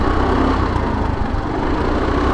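Petrol engine of a hybrid petrol-electric scooter, converted from a bike, starts and runs, a steady low mechanical drone that holds continuously throughout without pauses.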